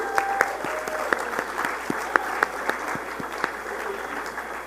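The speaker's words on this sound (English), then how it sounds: "Give yourselves a round of applause." Audience applause at a religious congress gathering, steady clapping from a crowd with several sharper individual claps standing out, moderately loud and continuous.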